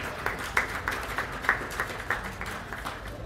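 Scattered applause from a county fair sheep show audience, moderately faint, with distinct individual claps popping out irregularly over a steady murmur of clapping.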